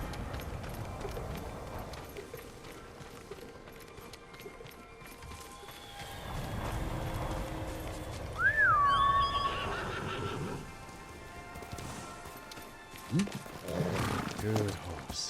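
A horse in the Ghost of Tsushima video game gives a loud, rising whinny midway, with hoofbeats and movement around it, while a voice speaks over the scene.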